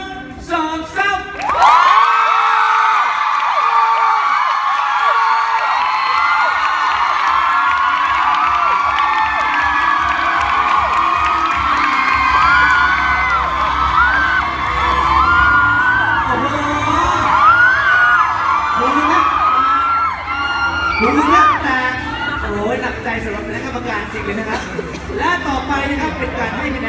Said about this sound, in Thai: ปรบมือและส่งเสียงร้องดังๆ